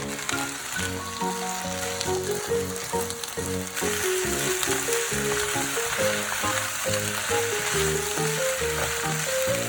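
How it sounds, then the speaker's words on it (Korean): Fish cake and vegetables stir-fry in sauce in a hot pan, a steady, close sizzle with light stirring, underneath rhythmic background music. "소스에 야채를 잠깐만 볶고 어묵을 넣어서 볶아주세요."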